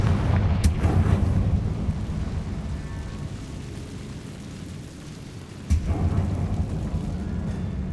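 Confringo blasting spell exploding in Hogwarts Legacy: a deep booming blast at the start and a second sudden burst later, over a steady rumbling background.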